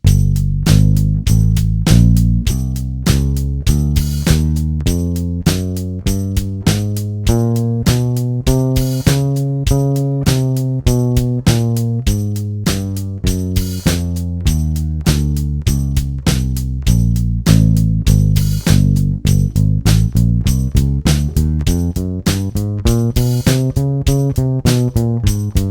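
A U-Bass plays a scale exercise in steady even notes, its tones climbing and falling over a drum machine beat, close and clear with no talking.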